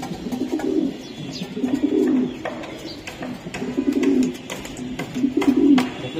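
Racing pigeons coo repeatedly in low, throaty rolling calls, close by, with light rustling and clicks between the coos.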